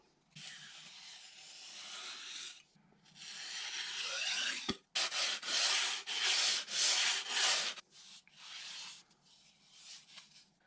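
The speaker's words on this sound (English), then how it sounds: "so what's left now is to bevel the underside of the leading edge" Foam leading edge on the underside of a wing aileron being bevelled for a Ritewing Mini Drak build, giving repeated broad rasping sanding strokes, close and fairly loud, in bursts with short pauses.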